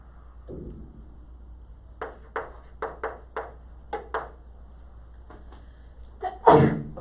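A single loud, abrupt sneeze bursts out near the end, preceded by a string of short, sharp taps and a faint sweeping sound in an otherwise quiet room.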